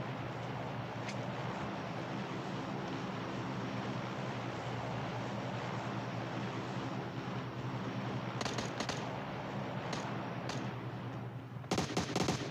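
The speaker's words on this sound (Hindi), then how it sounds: "तभी और एक बॉट पीछे से फायरिंग देता है" PUBG Mobile gameplay with a dense, steady engine-like roar throughout, broken by short bursts of gunfire near the end, moderately loud, no talking.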